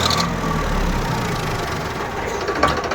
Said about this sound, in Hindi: इंजन की कंडीशन देखो भाई।